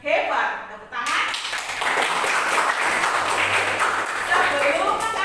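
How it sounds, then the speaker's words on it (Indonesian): Children in a classroom clap their hands together in a dense, steady burst lasting several seconds after a brief pause, fairly close, with faint voices mixed in. "Tepuk tangan."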